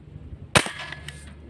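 A single sharp airgun shot while fishing, one brief crack fairly close against quiet outdoor background, with no voices.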